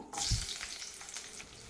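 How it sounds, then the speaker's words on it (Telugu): Garlic and ginger hit hot oil and fry with a bright, hissing sizzle that flares up loudly at the start and then settles into a steady crackle, close and alone. "ఇదే ఆయిల్లో వెల్లుల్లిని ఒక వెల్లుల్లి మొత్తం అయితే తీసుకున్నాను దీన్ని ఇందులో యాడ్ చేసేసేద్దాం ఆయిల్లో తర్వాత కొంచెం అల్లము"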